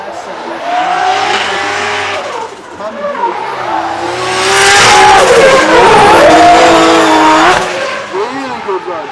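Drift car at Cadwell Park racing circuit on a competition run, engine loud and close, revving hard with tire squeal and skidding swelling mid-pass, while a commentator talks over it.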